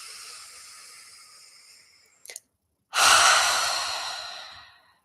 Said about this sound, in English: So nice big inhale. Sigh out.